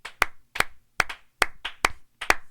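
Congregation at a church family restoration service clapping in unison, six sharp, close, loud claps in a slow steady beat with brief silences between them.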